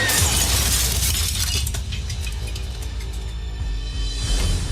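A glass table shattering in a dramatized fall, a loud crash followed by tinkling, scattering shards that fade over several seconds.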